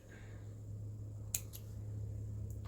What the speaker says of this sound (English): And then cut your thread.